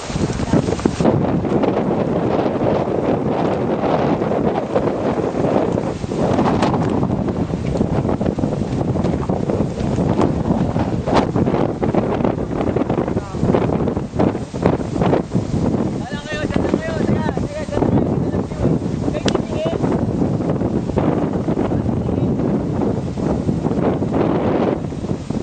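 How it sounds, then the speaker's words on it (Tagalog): Strong wind buffets the microphone on a climb of Mt. Manabu, a steady loud roar lasting throughout, with people talking now and then underneath. "Hangin na eh."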